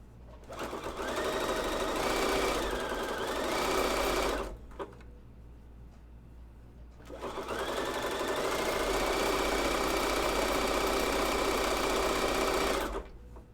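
A sewing machine runs a zigzag stitch on women's underwear in two steady bursts of rapid, even stitching with a short quiet gap between them, close and clear with no talking.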